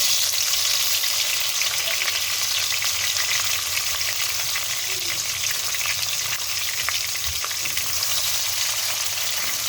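Tomatoes fry in hot oil for a mixed vegetable curry, a loud, steady, dense sizzle that holds without pause throughout.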